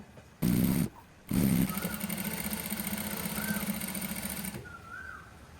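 A domestic sewing machine stitching a folded fabric hem on a shalwar garment: two short fast bursts of whirring, then a longer steady run of close, even mechanical stitching that stops abruptly.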